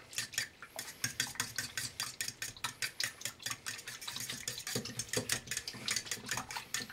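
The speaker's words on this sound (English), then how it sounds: "you're going to mix up your wine and your eggs. And just beat them together" A fork or whisk beats wine and eggs together in a bowl for Cuban empanada dough, making quick rhythmic clinks and scrapes that carry on steadily and close up without pause.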